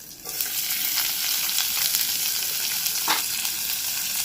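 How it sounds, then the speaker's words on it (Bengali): Crushed garlic and chopped onion frying in hot oil for a fish recipe, a loud continuous close sizzle with occasional spatula scrapes and a brief burst near the end. "এবার ওর মধ্যে দিয়ে দিচ্ছি থেতো করা রসুন আর দিয়ে দেবো একটা গোটা পেঁয়াজ কুচি"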